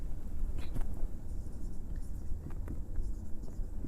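Chalk or marker writing on a board during a lesson, a run of soft scratchy strokes and taps over low room noise, fairly close and steady.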